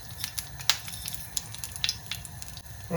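Cloves, cinnamon and fennel seeds crackle and sizzle in hot oil, a steady frying hiss with scattered sharp pops, close and fairly quiet, no voices.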